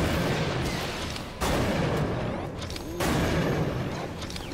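Heavy gunfire from a blaster in Disney Infinity 3.0's Force Awakens playset, a dense, continuous barrage of booming shots with loud bursts starting near 1.4 and 3 seconds, no talking over it.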